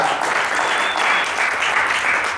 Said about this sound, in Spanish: Denle un aplauso fuerte al Señor esta tarde